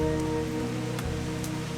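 Steady rain falls in a soft, even wash of patter that runs unbroken throughout, with a faint tonal hum beneath it.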